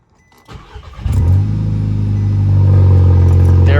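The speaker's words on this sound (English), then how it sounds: "We'll try and start the car again." A bagged Audi fitted with a new turbo intake cranks and fires up, then settles into a loud, steady idle that rises slightly, close by.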